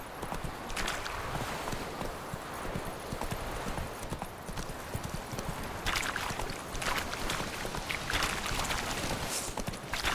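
Steady horse hooves clip-clop at a walking pace in The Witcher 3, a close, even rhythm of hoofbeats with faint ambient rustling behind them.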